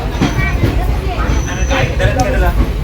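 Steady rumble and rattle inside a moving passenger train carriage travelling from the Konkan region to Mumbai, with people talking over the continuous rolling noise.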